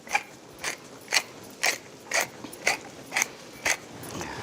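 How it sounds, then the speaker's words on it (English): A pepper mill cranks coarse pepper over a salad in eight evenly spaced ratcheting grinds, close and fairly quiet, with no talking. "I like coarse peppering here."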